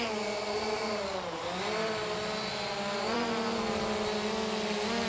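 Propellers of an SJRC F11 4K Pro drone whirring steadily at close range, a sustained high buzzing whine whose pitch dips and rises slightly as the motors spin, with no talking.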